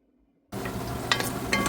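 Biryani frying in a pan while being stirred, a sudden steady sizzle that starts after a brief silence, with scraping stirs on top, close and fairly quiet.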